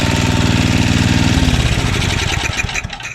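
A Tecumseh 5HP engine on a 24-inch dual-stage Simplicity snowblower runs loud and close with a steady throbbing pulse, then drops and sputters toward idle at the end.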